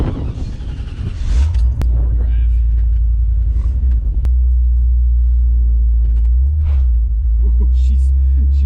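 A V8-swapped 1986 GMC S15 Jimmy pulls away with the windows down, its engine rumbling loud and close in a deep steady drone with gravel crunching underneath, while someone talks over it.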